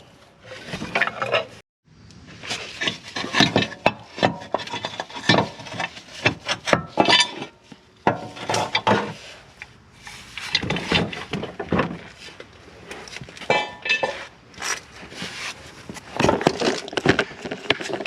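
Under a 2012 Chevy Traverse, the starter is pried loose during a replacement. Irregular bursts of metallic clanks, knocks and scrapes come close and loud, with brief pauses between efforts.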